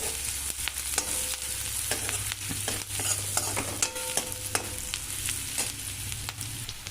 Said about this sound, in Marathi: आता आपला कांदा छान असा तेलामध्ये भाजला गेला आहे